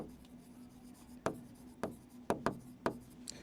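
Chalk or marker strikes on a classroom board while an equation is written, a series of short sharp taps and scratches, close and fairly quiet, with a faint steady hum beneath.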